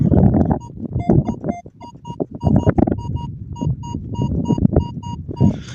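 A metal detector in a garden gives repeated short beeping tones over a buried object, sounding in quick clusters amid rustling and digging noise close by.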